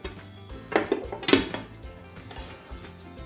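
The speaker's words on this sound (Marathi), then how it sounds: "ह्या थाळ्यामध्ये आपल्याला ही बिर्याणी आहे ही पूर्ण काढून घ्यायची आहे" Chicken biryani made in a pressure cooker is scooped out onto a large metal plate, with a few close clinks and scrapes of a utensil against metal clustered in the middle and softer knocks afterward.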